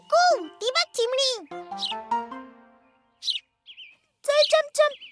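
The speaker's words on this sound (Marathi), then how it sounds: "ती बघ चिमणी." A cartoon sparrow gives a few short, high chirps, close and clear, amid lively animated children's chatter.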